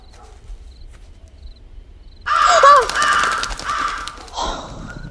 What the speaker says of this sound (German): Okay, das waren nur Vögel.